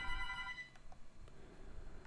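A telephone ringing faintly in a game setting, a steady electronic ringtone tone that fades out after under a second, leaving low background rumble and a few soft clicks.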